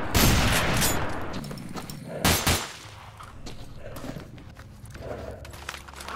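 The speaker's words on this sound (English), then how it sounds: "That shotgun is not very good." Blasts of a shotgun in the survival shooter Misery come close and loud, including a sharp burst near the start and another in the middle, mixed with other gunfire and game noise.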